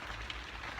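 Fresh rain patters steadily on surfaces in an allotment garden, a soft, even wash of drops with no voices.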